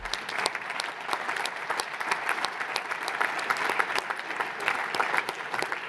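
Sustained audience applause for Georges, a persevering golfer, after a hole-in-one with a 4-iron, steady even clapping from a sizeable crowd at moderate level, with no talking over it.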